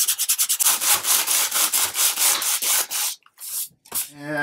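Coarse sandpaper scrubs surface rust off the metal shielding screen of an Atari 65XE computer, in quick rhythmic back-and-forth strokes that are loud and close, pausing briefly near the end.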